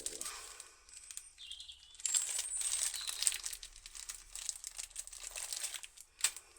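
A nail punches holes through paper for string art, giving quiet crinkling pops and scratchy taps scattered unevenly, near and soft.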